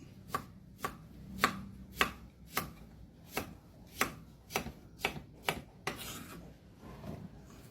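Radish being sliced with a knife on a board, a series of about a dozen crisp, evenly paced chops, close and clear, with a brief scraping rub near the end.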